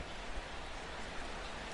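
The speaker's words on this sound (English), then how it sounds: "as the rain continues to fall here" Rain falls on a baseball field in the video game MLB The Show 16, a steady, dense hiss that runs unbroken through the short stretch with no voices.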